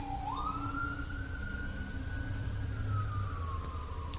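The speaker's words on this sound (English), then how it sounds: "I'm sorry for the siren." An emergency siren wails in one long rising and falling sweep, moderately distant, over a low rumble of traffic.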